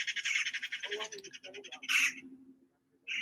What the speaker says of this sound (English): I guess we can hear the birds around us.